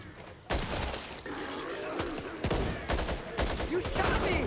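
Dense gunfire rattles nonstop in the co-op zombie shooter Back 4 Blood, with sharp overlapping shots and bursts stacking into a loud, close barrage mixed with voices and game chaos.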